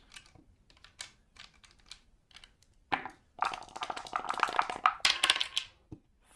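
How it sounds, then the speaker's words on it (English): Dice rolled for movement in a HeroQuest board game, a scatter of light clicks and then a dense rattling tumble of plastic dice on a board, close and crisp, ending in a final tap. "And now Nicolton, movement dice."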